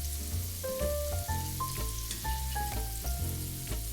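Cajun-style scallops searing in a pan, a constant sizzle running under melodic background music.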